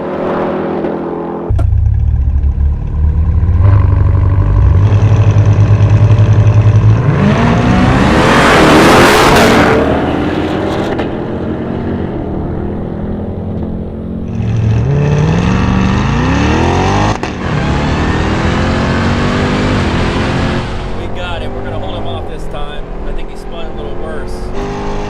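Loud engines from a 1200-horsepower Ram TRX and a stock Hellcat Durango racing side by side, a sustained roar with rising revs and pitch sweeps as they accelerate toward high speed, fading and surging again, with a voice talking over it.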